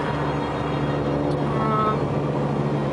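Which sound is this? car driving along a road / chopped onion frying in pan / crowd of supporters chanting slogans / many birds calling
car driving along a road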